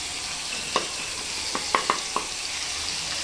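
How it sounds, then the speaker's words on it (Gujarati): A green masala of ginger, chili and garlic fries in hot oil as a steady, moderate sizzle, with a few sharp spoon clicks and stirring taps scattered through it. "મસાલાને બરાબર તેલમાં ફ્રાય કરી લેવો."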